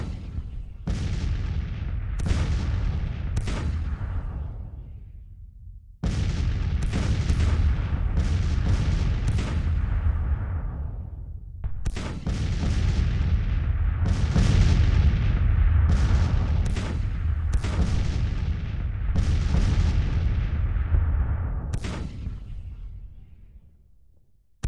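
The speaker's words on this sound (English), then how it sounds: "Artillery is just doing the work right now." Artillery fires in a strategy video game set in 1863, with repeated heavy booms landing in clusters, each blast rumbling and decaying before the next, loud and continuous throughout.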